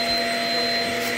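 A Shark Rocket self-cleaning vacuum cleaner runs with a steady, loud motor whine and airflow hiss, constant and close, with no voices.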